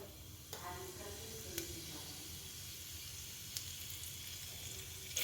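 Asafoetida and cumin spluttering in hot oil inside a pressure cooker, a steady soft sizzle with a few sharp crackles, quiet and close, with no talking.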